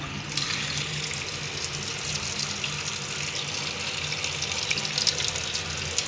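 Tap water pours steadily into a pressure cooker holding yams, a constant close gushing splash with no talking.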